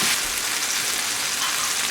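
Tomatoes with garlic paste sizzle steadily in a hot pan while being stirred, a dense, even crackle that stays close and constant, with no talking.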